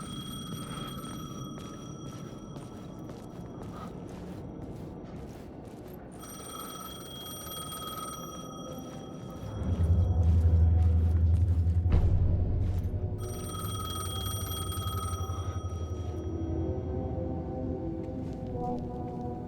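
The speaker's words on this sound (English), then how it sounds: "The payphone was ringing." A payphone rings in Alan Wake 2, repeated metallic bell bursts with pauses between them, over a low ambient rumble that swells midway, with no talk.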